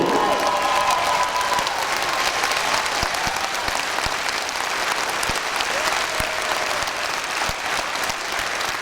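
Sustained applause from a concert audience in Vladikavkaz honoring soldiers, dense steady clapping with some crowd noise and a few sharper claps standing out, loud and continuous throughout.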